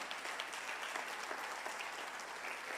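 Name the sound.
church congregation applause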